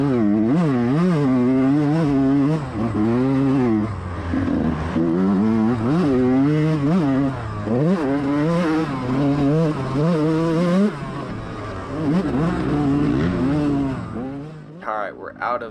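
A dirt bike engine revs hard along a trail at a GNCC off-road race, loud and close, rising and falling through repeated throttle bursts and gear changes, with a brief easing of the throttle near the end.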